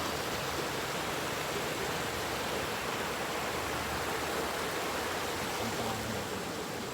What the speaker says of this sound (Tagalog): Yung rumaragas ang tubig.